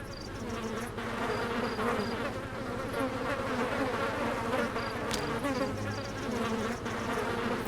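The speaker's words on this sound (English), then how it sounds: "the bees are keeping them away from the toilet" Swarming bees from the video game Ghost Master give a steady, dense buzz that fills the whole stretch, with faint game tones pinging now and then over the drone.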